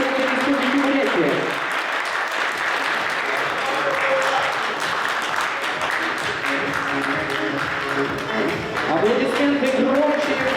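Sustained applause from a crowd at a youth volunteer forum at Buryat State University fills the whole stretch, steady and loud, with voices and some musical tones mixed underneath.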